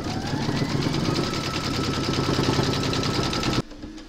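An embroidery machine stitches satin borders around an appliqué in rapid, even, loud mechanical pulses for several seconds, then stops abruptly, leaving quiet room tone.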